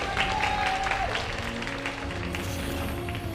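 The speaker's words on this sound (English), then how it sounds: "Hearty applause there for aLive." Hearty applause from a live audience at a StarCraft 2 esports match between Terran players aLive and ByuN at SSL 2016, a steady broad wash of clapping running throughout the clip.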